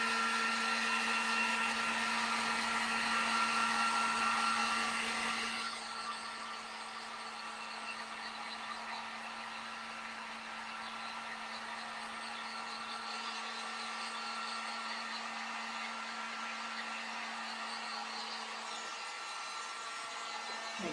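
A hair dryer blowing to dry stencil paint on a winter home decor craft, a steady loud whir that drops to a softer, lower setting partway through and runs on continuously without talk.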